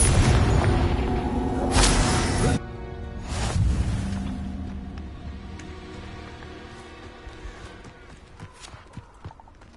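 A Confringo fire-blast spell in the Hogwarts Legacy video game erupts as loud, roaring bursts, one long and one short, then fades into a decaying rumble dotted with light clattering taps.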